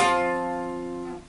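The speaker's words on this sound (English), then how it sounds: "These power chords are very unique to the rock genre" A rock guitar power chord struck once and left to ring, a bright attack settling into a steady sustained tone that fades over about a second, heard alone.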